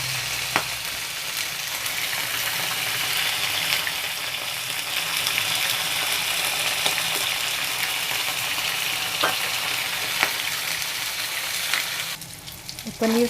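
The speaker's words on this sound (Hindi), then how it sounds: "इस पनीर को हल्का सा फ्राई कर लेंगे।" Paneer pieces fry lightly in a pan with a steady, full sizzling hiss, broken by occasional soft clicks of stirring and a brief clatter near the end.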